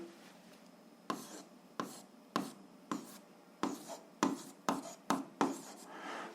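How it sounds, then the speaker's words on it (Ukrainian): Pen writing an answer by hand on paper, a series of short scratchy strokes about a dozen times in uneven rhythm, close and quiet, no speech. "записуємо відповідь, пишемо відповідь"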